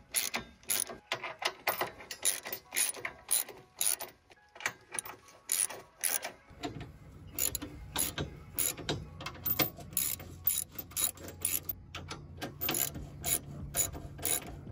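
Ratchet bolting an etrailer trailer hitch onto a Honda Ridgeline: bursts of rapid, close metallic clicking that repeat in uneven runs, with a low rumble joining in the second half.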